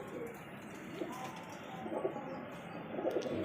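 A pet pigeon bought for 250 rupees coos in low, soft, repeated phrases about once a second over a faint steady background hum.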